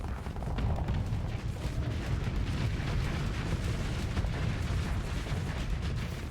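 Hurricane missiles launched and detonating in the space combat game Starsector, a dense, continuous low rumble of heavy blasts and booms rolling on for several seconds, loud and steady with no voices.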